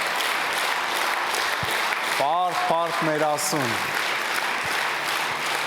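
A church congregation keeps applauding throughout while someone speaks a short phrase over the clapping partway through.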